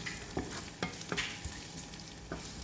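Shallots and garlic fry in a pan with a steady, fairly quiet sizzle, and a spatula stirs in several sharp scraping strokes.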